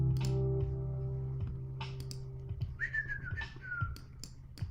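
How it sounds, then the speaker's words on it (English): A whistle sounds during a live forex day-trading stream, a short sliding whistle tone in the middle among scattered clicks and low hum, fairly faint. "Oh, there's the whistle."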